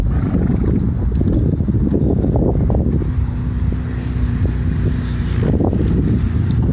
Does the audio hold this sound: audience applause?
no